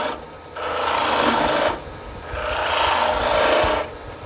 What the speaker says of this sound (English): and then you scoop that wood out.